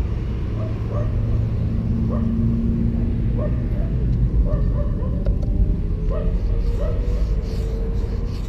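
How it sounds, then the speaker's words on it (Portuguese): A dog barks repeatedly somewhere outdoors on a Saturday afternoon at a graffiti session, its short yaps spaced through steady background noise and a low hum. "Cachorro latindo ali"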